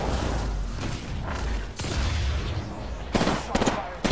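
Gunfire in Apex Legends comes in dense, rapid bursts of loud shots with sharp cracks, continuous throughout, growing more intense toward the end.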